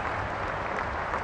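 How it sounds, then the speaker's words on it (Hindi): A hall audience claps loudly to welcome India's Home Minister Amit Shah, a dense, even burst of applause that fills the whole short moment. "आइए जोरदार तालियों से"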